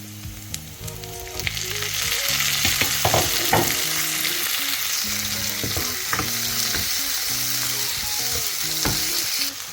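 Onion, chili and tomato sauté in a pan for a soy biryani, giving a loud, unbroken sizzle with repeated scraping stirs and clinks of a utensil.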